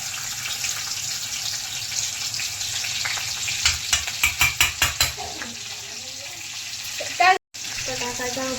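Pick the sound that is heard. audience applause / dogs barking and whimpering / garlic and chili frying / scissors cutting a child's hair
garlic and chili frying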